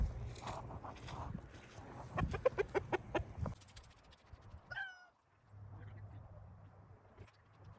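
Roosters clucking and squawking close by as they are caught by hand, a burst of rapid agitated clucks followed by a sharp squawk, then quieter shuffling and handling noise.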